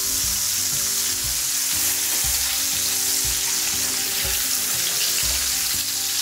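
A meatball loaf sizzles steadily in a hot frying pan, a loud continuous fry broken by soft scrapes and knocks as a spatula turns it, with no voices.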